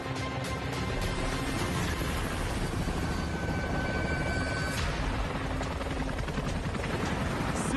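A helicopter in flight, carrying Barack Obama and Bear Grylls, with a loud, continuous rotor and engine roar that stays close and steady throughout, with no voices over it.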